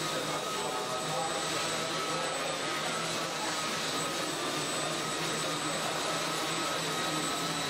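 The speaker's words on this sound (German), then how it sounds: "dieses Fluggerät kann von seiner hubschrauberartigen Fortbewegung bei genügend Geschwindigkeit in eine Art Flugzeug wechseln" A Quadshot hybrid drone that switches from helicopter-like hovering to airplane-style flight produces a steady, continuous whine and whir at moderate distance, unchanging throughout.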